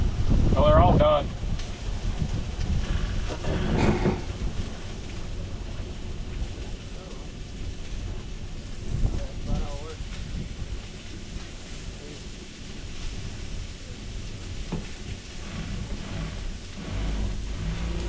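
Strong gusting wind at a frozen-lake ice campsite in South Dakota during a high wind advisory, buffeting the microphone in heavy low rumbles with louder bursts, while people talk faintly now and then.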